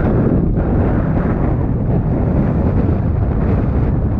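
Strong Mediterranean wind roars and buffets continuously at a harbor mouth, a loud low rumble with gusty pulses.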